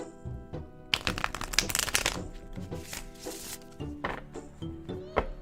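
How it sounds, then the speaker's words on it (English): A deck of tarot cards is shuffled close up, giving bursts of rapid riffling and flicking with brief pauses and soft taps between them, fairly quiet overall. "Let's give it a nice shuffle."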